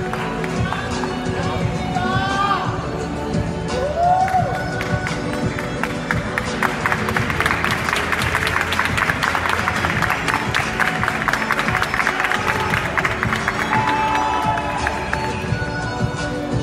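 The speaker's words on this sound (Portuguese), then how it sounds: "Aplausos para Renata Gasparetto, com o vestido criação Josi Marie." Audience at a Miss Gay Ceará 2018 pageant applauds and cheers steadily for a contestant in an evening gown, a continuous dense clapping wash with whoops, under music and an announcer's voice.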